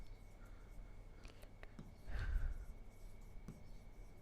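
Chalk or a marker scratches across a classroom board while a definition is written, with a few faint, brief strokes and one longer scraping stroke in a quiet room.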